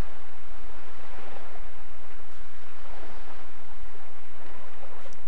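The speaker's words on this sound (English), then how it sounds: "This water's a little bit loud." Loud, steady rushing of flowing water in the hunting game theHunter, a continuous broadband wash with no breaks across the whole stretch.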